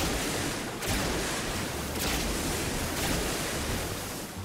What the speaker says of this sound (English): And then you can send out tidal waves.